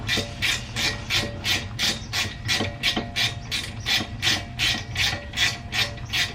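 The screw-type rear brake caliper piston of a 10th-generation Honda Accord being turned, giving a close, steady run of rhythmic rasping clicks at about two per second, with no talk.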